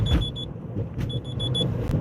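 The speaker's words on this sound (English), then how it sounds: "there goes Rose's alarm" An alarm beeps in rapid repeated bursts of short, high-pitched electronic tones, two clusters with a pause between, heard over the low rumble of a moving car.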